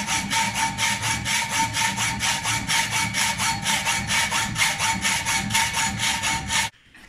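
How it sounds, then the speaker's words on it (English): A 10 mm metal bar is hand-sawn at a workbench, with steady rhythmic back-and-forth strokes, around thirty of them, close and loud, stopping abruptly near the end. "so you're cutting down some bar to make some bolts?"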